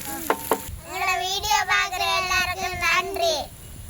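Goat intestines sautéing in a pan for a village-style Jaffna fry, a soft sizzle with stirring scrapes underneath, while a voice speaks over the cooking.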